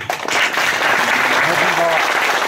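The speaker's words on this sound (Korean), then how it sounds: "박수 한번 주시기 바랍니다" Audience applause at the 37th annual general meeting of a Korean association, held at Dudeul Village: a steady dense clatter of clapping filling the room throughout, with some voices mixed in.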